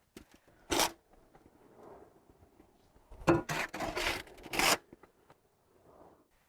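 Steer manure compost sprinkled onto garden soil around Concord grapevines, a few dry rustling, scattering bursts with quiet pauses between, near and soft, no talking.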